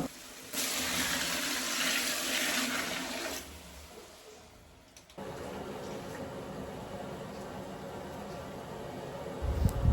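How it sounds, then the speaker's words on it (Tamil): Water gushes steadily into a cooking pot for mushroom biryani for a few seconds, then stops, and a softer rushing flow resumes and continues, close by with no talking. "இதுக்கு தேவையான அளவு தண்ணி ஊற்றிக்கலாம்"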